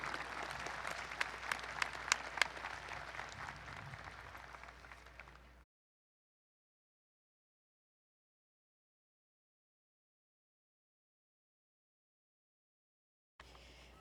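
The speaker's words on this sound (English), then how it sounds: "Please give them a warm round of applause." A commencement ceremony audience claps in a full, even burst of applause for about five seconds, then stops abruptly into silence before a faint return of sound at the end.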